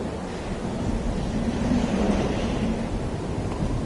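Steady broadband wind whooshes through a Bloodborne game environment, a continuous mid-loud rush that swells slightly in the middle, with no talking.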